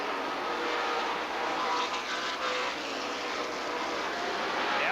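A field of race cars at the Joe Shear Classic accelerates at the green flag, making a dense, steady engine roar that holds at a constant loudness throughout, with no speech.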